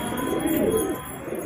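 Domestic pigeons on a home rooftop coo softly at close range, a low steady murmur of calls in the morning.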